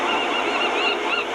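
Canada geese honking in the wild near a lake or river, a dense, continuous overlapping chorus of many birds calling at once, loud and steady throughout with no pauses.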